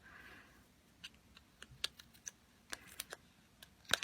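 Sharp scissor snips cut through felt, a dozen or so irregular crisp clicks spread out over a few seconds, close up and fairly quiet.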